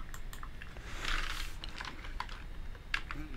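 A quick burst of typing on a computer keyboard enters a folder name, with close, crisp key clicks in an uneven run over a few seconds and no voices.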